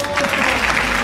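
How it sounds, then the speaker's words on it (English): Audience applause at a corporate event hosted by an anchor, a steady wash of many hands clapping that fills the whole moment at a fairly loud, even level, with a faint voice or tone showing briefly at the start. "Please, ek baar taaliyan banti hain."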